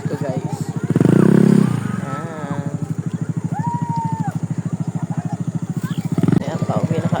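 Motorcycle engine running steadily during a ride home at dusk toward Navotas, its even pulsing drone continuous and close, swelling louder briefly near the start.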